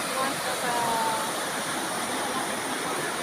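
Constant broadband rush of a waterfall in the Philippines, loud and close, with the steady hiss of falling water continuing unbroken throughout and no talking.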